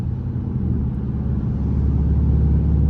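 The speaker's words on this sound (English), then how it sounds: "Yeah, that's drone. You can hear drone right now." Low, steady exhaust drone from a Dodge Charger in track mode, a loud sustained rumble heard from inside the car at cruising speed with no talking.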